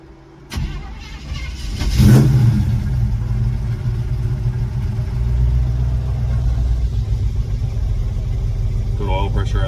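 Small block V8 swapped into a 1975 Chevy LUV pickup with a four-barrel carburetor, starting with a sharp catch and then idling in a steady, close, low rumble.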